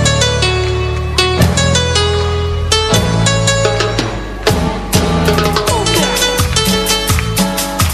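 The instrumental backing track of a Latin pop song plays loudly and alone, with punchy percussion hits, a bass line and melodic synth or guitar layers in a steady, danceable rhythm.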